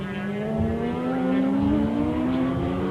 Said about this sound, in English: the 500 Honda flicks past Stringer before they get to the hairpin